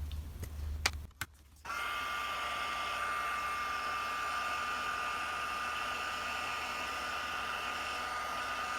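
A heat tool blows steadily for several seconds after a brief pause, melting clear embossing powder over a stamped canvas, a loud continuous hairdryer-like whoosh with a faint whine and no talking.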